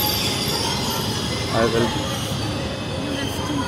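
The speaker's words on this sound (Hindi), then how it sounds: "तो the train is already on the platform." A train stands at a station platform in Switzerland, giving off a low rumble and brief squeal under someone talking close by.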